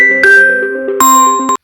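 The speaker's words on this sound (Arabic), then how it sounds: "الموبايل رن" A mobile phone rings up close with a loud chiming melodic ringtone, bright tonal notes in two short phrases that cut off abruptly after under two seconds.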